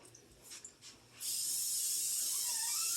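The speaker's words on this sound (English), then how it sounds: "I need my spray." A steady hiss of aerosol cooking spray starts abruptly after a second of near quiet and continues evenly to the end, close and fairly loud.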